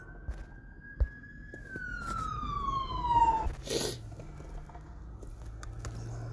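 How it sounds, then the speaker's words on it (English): An ambulance siren passes by outside, a wailing tone that holds and then slides downward as it moves away, with a few thumps and a brief noise burst around it. "there was an ambulance going by"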